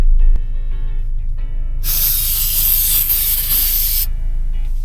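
A steady pressurized WD-40 aerosol spray hisses onto car side mirror joints for about two seconds, close and loud, between quieter handling sounds.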